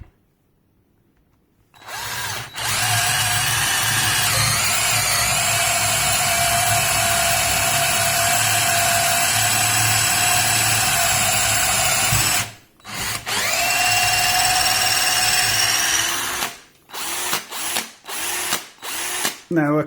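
A DeWalt cordless drill whines at high speed in a long steady run, cuts out briefly, runs again, then ends in a series of short, quick bursts.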